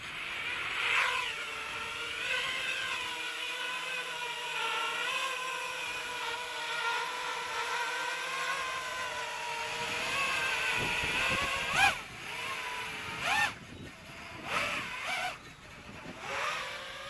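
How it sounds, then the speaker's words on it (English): A fiberglass-over-plywood FPV miniquad drone with AM32 ESCs flies with a thin, buzzing motor whine that rises and falls in pitch. It ends in choppy pulses and surges as the throttle changes. "Let's just take that little quad for a fly."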